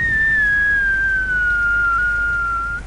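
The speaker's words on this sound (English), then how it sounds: "Oh, it's a whistling Mongol arrow." A whistling Mongol arrow in Rise of the Tomb Raider gives a single steady, slowly falling high whistle, loud and clear, lasting about three seconds with no talk.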